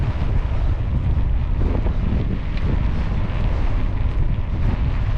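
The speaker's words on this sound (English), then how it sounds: "That's powerful wind." Strong side wind buffets the microphone while cycling near Schaftlach in Bavaria, a continuous loud roaring rumble with no breaks and no voices.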